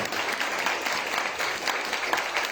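Steady applause from a crowd, dense clapping that holds for the whole stretch without pause.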